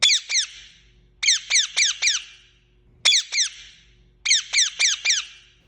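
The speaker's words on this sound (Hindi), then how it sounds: "बच्चों, कौन कौन पैरोट देखा है? चलो आज मैं उसकी आपको आवाज सुनाता हूँ।" Recorded parrot calls played as an animal sound: loud, clear repeated squawks in groups of two to four sharp chirps, bursts separated by short pauses, with no talking over them.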